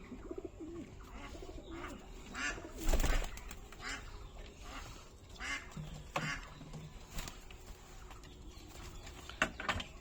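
Giribaz Madras pigeons coo softly in a loft, faint and somewhat distant, over low background noise with occasional rustles and one louder burst of fluttering.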